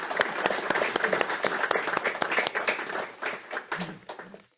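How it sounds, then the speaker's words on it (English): A meeting audience applauds, many hands clapping together in a dense, lively burst that fades out toward the end, with a voice faintly heard under it. "One last round of applause for their leadership over the year."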